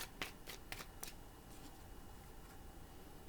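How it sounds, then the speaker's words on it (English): Tarot cards are shuffled by hand, close and quiet. Four or five quick riffling bursts come in the first second, then the sound fades to a soft, steady background hiss. "I'm going to give it one more shuffle."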